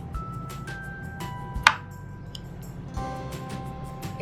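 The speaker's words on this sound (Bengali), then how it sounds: "আমগুলোকে প্রথমে আমি কেটে নেব" A knife cuts ripe Himsagar mangoes at a kitchen counter, giving a few soft, separate cuts and one sharper tap, fairly quiet and close, with no talk.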